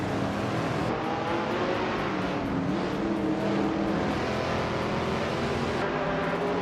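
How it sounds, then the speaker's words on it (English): A 1968 Honda S800RC in a racing video game drones with a steady, buzzing engine note that holds close and constant, rising and falling gently in pitch throughout. "Kikaslady X3 is driving a Honda S800RC from 1968, a tiny but nimble car"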